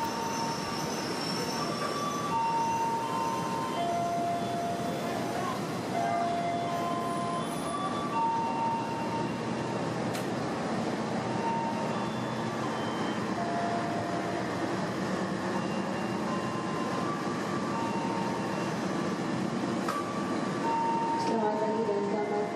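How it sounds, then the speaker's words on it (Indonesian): A passenger train from Bandung rolls into Gambir station, Jakarta, with rumbling wheels and drawn-out metallic squeals, a continuous loud approach over several seconds. "ini kita saksikan ya kereta saya ya, yang berangkat maksudnya yang datang dari Bandung menuju Gambir"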